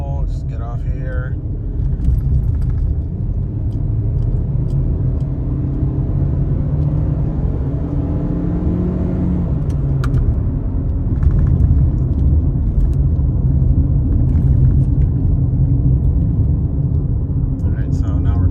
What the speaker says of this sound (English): Let's do another quick acceleration pull.